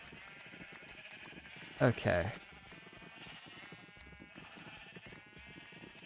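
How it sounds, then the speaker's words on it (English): A single bleat from a Minecraft sheep rings out clearly near the middle, brief and fairly close, over a quiet game background with someone talking softly. "Hello, sheep."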